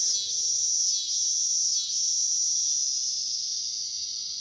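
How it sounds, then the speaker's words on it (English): Cicadas buzz outdoors in a loud, steady high-pitched drone that dips briefly twice, with no other sounds over it. "I'm also hearing the cicadas going off"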